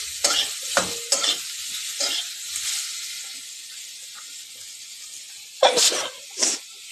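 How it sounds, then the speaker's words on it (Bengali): Mustard seeds crackle and spit in hot oil in a pan as a Bengali chutney is tempered, a series of sharp, close bursts and pops separated by quieter gaps. "এই যে সর্ষে ফোড়ন দিয়ে চাটনিটা আবার বসিয়ে দিলাম"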